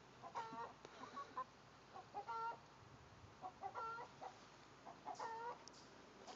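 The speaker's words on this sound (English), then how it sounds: "one of the chickens in there laying an egg" A hen clucking repeatedly in short, rhythmic bursts while laying an egg, moderately distant and fairly quiet, with a soft background hum and no voices.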